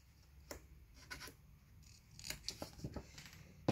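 Several short crisp snips of scissors cutting scrapbooking paper, spaced irregularly, close and fairly quiet, with a sharper cut at the end.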